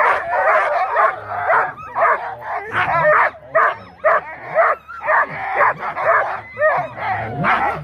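Sled dogs bark, yip and whine excitedly at the start of an open North American sled dog race, loud and close with overlapping repeated barks and a crowd murmuring behind.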